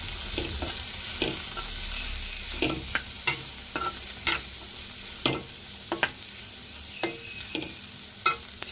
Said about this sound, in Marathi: आणि आता यावर घालूया आपण वाटून घेतलेले दाणे आणि छान मिक्स करून घ्यायचं.